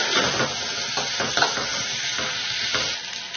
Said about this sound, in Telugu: ఇప్పుడు ఇదే నూనెలో ఉల్లిపాయ ముక్కలు పచ్చిమిర్చి కరివేపాకు వేసేసుకుందాం వీటిని చక్కగా మెత్తబడేంత వరకు కూడా వేయించుకుందాం